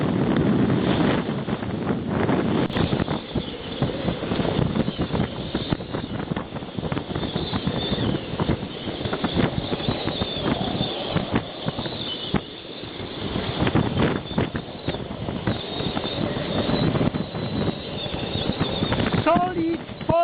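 A solid 40-knot gale at sea buffets a solo sailboat, giving a loud, continuous roar of wind across the microphone with surging gusts and rushing water beneath, all sustained.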